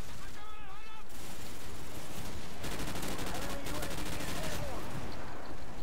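Sustained bursts of automatic gunfire fired at a helicopter in Call of Duty 4 rattle through much of the stretch, loud and continuous over a busy game-noise bed.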